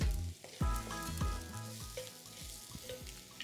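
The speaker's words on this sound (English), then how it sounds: "I'm going to just do a pinch of salt, which helps to sweat the onion." Chopped onion sweating in a hot pan with a pinch of salt, a steady close sizzle with a few sharp knocks and stirring scrapes of a utensil against the pan early on.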